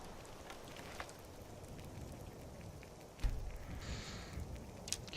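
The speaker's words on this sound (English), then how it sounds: "even though it's raining and it's been a miserable day and we are wet" Steady rain falls in the video game Skyrim during a storm, a continuous close hiss of drops with a slightly heavier patter past the midpoint and no voices.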